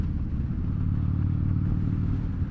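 A deep, throbbing Harley-Davidson Dyna Fat Bob (FXDF) engine idles steadily up close, a low rumbling pulse that holds constant throughout.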